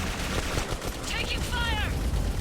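Rapid automatic gunfire rattles in a first-person shooter, Clive Barker's Jericho, a dense burst of shots layered over shouting voices and game effects.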